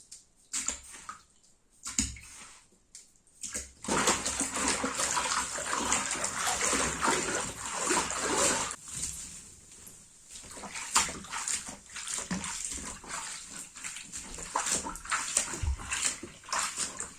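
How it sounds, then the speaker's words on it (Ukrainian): Water runs into a bathtub with washing powder and salt added: after a few quiet seconds with faint knocks, a strong close gush fills the space, then eases into softer sloshing and splashing. "у ванну напустила ось так води, трішки порошку, і зараз сіль добавлю"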